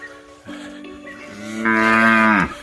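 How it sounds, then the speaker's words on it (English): A single cow lets out one long, close moo that swells louder before cutting off, heard on a rainy hillside in Samoa. "cows are here."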